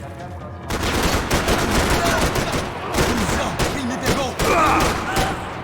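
Gunfire in the video game Max Payne 3, a dense, continuous fusillade of close rapid shots and bursts, with someone speaking briefly over the shooting.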